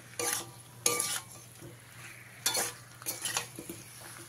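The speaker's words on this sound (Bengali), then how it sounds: "মিশিয়ে নিয়ে সবজিটাকে খুব ভালো করে ভেজে নিতে হবে।" Diced raw pumpkin with ground spices fries in a pan for a vegetarian dish, a soft background sizzle broken by several sharp scraping stirs of a spatula against the metal, close by and without speech.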